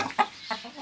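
Chickens in a holding pen at a French country home give two or three short, close clucks in quick succession, with no talking over them.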